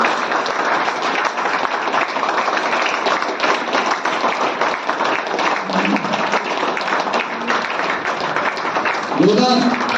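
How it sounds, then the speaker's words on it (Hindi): Sustained applause from an audience at an LIC annual function, a dense steady wash of clapping throughout, with a brief voice-like tone near the end. "तालियां बजती रहनी चाहिए,"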